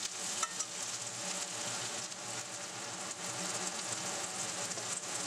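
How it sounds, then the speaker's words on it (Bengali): Onions fry in a pan over a medium gas flame, giving a soft, even sizzle and fine crackle that holds steady from start to finish without any voices. "এই সময় গ্যাসের ফ্লেমটা মাঝারিতে দিয়ে পেঁয়াজটা ভাজছি।"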